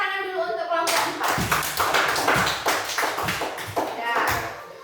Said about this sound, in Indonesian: beri tepuk tangan dulu untuk kelompok 4